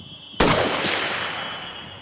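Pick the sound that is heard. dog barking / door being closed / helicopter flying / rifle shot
rifle shot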